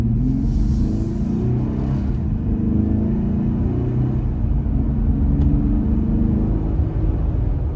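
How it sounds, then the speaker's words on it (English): A Jeep Gladiator pulls away from a stop sign and accelerates toward about 30 mph, its exhaust a steady low grumble heard from inside the cab, rising slightly over several seconds. "we're gonna take a turn from a stop sign and accelerate up to 30 in this case."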